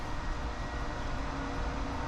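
A Nifty 250 straight-six turbo engine from a thrift find, brought back to life, runs with a loud, constant, rumbling roar that holds steady from start to finish.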